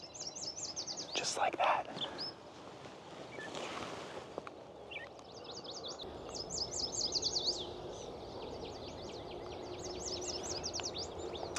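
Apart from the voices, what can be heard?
male warblers singing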